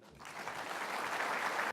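Audience applause at an awards night honoring community leaders, a dense, steady clapping from a crowd that swells quickly and holds evenly before cutting off abruptly.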